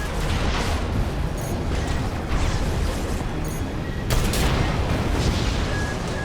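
Sustained gunfire and explosive booms from the Armored Core VI: Fires of Rubicon video game, dense and loud throughout as a warship's defenses open fire, with a heavier blast burst midway.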